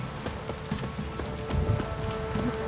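Rain falling in Witcher 3: Wild Hunt, a steady patter of drops on surfaces with scattered sharper drips, constant and moderately quiet throughout.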